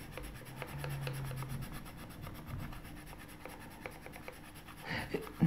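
A Comté colored pencil is worked lightly across paper in soft, repeated rubbing strokes, quiet and close, with small scratchy bursts.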